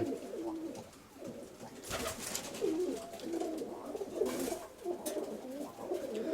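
Pigeons coo softly in a newly built and newly occupied dovecote, with repeated low, rolling calls and a couple of brief flutters against quiet background noise.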